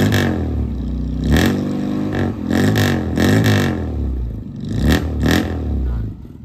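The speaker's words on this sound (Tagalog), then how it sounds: "So, nakaswing kasi yung kanyang exhaust pipe, yung kanyang tambutso. Kaya, napakaganda ng tunog." An owner-type jeep in Imus, Cavite, fitted with a swing exhaust pipe, revs hard in repeated loud bursts, each rising and falling, with a rough, booming exhaust note close by.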